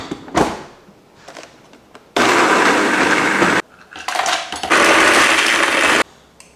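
Blender making a smoothie, running in two loud steady whirring bursts of about one and a half seconds each, with clatter and handling noises before and between them.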